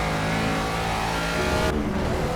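A Caterham race car engine in the Project Cars racing game drones loudly and continuously under hard throttle, then shifts tone abruptly near the end as the revs change.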